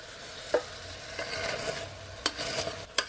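Scraping and stirring of a Second Boer War-era British survival ration in a cooking pot, with short clinks and scrapes spread over a low background hiss.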